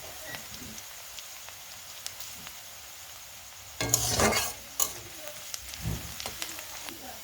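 Onions frying in a pan for khichdi, a faint low sizzle with scattered crackles and a louder burst of stirring and spattering midway, heard close with a voice speaking at times.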